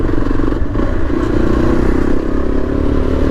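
A 2024 Yezdi Adventure motorcycle rides steadily in gear with a loud, continuous engine drone and some mechanical clatter, heard close throughout with no talking.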